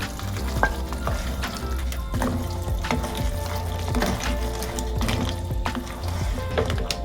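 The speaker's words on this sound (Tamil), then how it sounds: "நல்லா கொதிச்சு வருது." A pan of Sri Lankan crab curry sizzles and bubbles steadily, with occasional clinks of a spoon stirring, close and continuous with no talking.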